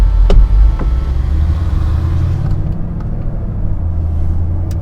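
Mercedes-Benz SLS AMG Roadster with its V8 bi-turbo engine, roof closed, driving through a city. A steady, loud low engine rumble runs throughout, with a couple of sharp pops near the start and no talk.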